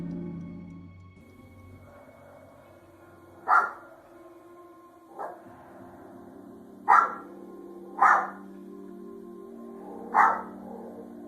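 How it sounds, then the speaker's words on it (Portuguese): Dog barking on alert, five sharp separate barks spaced a second or two apart over a low background hum, moderately distant. "o cachorro está o tempo todo em alerta, chegando a latir em alguns momentos"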